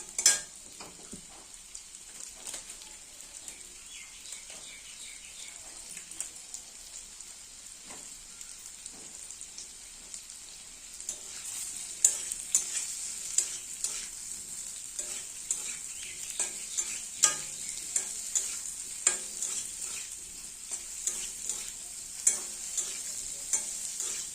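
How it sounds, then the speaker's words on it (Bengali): Steady sizzling of potatoes frying in a pan, with repeated scraping and stirring clicks that grow busier partway through, close and fairly quiet. "আলুটা ভাজা ভাজা হতে হতে আমার ফোড়নটা হয়ে যাবে"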